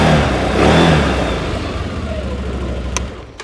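A 2024 CFMoto CForce 1000 Touring ATV engine and exhaust rev up, then settle into a close, steady, fairly muted running drone.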